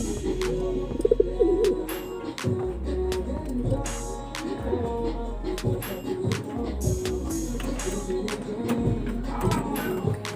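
Racing pigeons in a loft coo softly and repeatedly at close range, low throaty calls over a background of rustling and faint voices.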